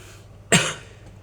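A single short, sharp cough from a man, close and fairly loud, rising out of a quiet room and fading quickly.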